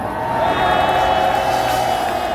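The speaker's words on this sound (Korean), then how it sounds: "귀한 말씀 주시는 김학선 교수님께도 감사의 함성을 질러주시기 바랍니다" A crowd at an Easter joint worship rally shouts and cheers in thanks to a professor, a dense sustained roar of voices and whoops without pause.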